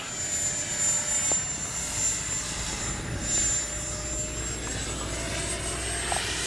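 An FMS 70mm F-18F twin-jet RC model in flight, a steady high-pitched electric ducted-fan whine that swells and fades slightly as it passes, heard alone outdoors.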